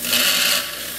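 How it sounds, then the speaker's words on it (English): A belt dresser rubbed against a running sanding belt, a loud, close, abrasive hiss over a steady motor hum, easing slightly after the first half second. "This is a belt dresser."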